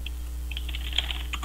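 Several quick, light keystrokes are tapped on a computer keyboard, close by and alone, over a low steady hum.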